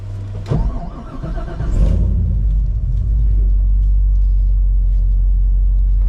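A 1962-67 Chevy Nova with an LT4 engine on a spec chassis rumbles as it drives, a sharp burst near the start giving way to a steady, loud, low engine drone that holds to the end.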